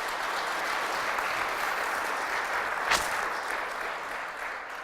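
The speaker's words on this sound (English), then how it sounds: "I'd like you just to welcome all three of them with a round of applause" Steady, dense applause from a sizable audience fills the whole stretch, holding an even level from start to finish without any talking.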